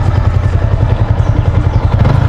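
A manual motorcycle engine chugs close and loud with a rough, pulsing mechanical clatter, idling or running at low revs while the clutch is worked for a downshift.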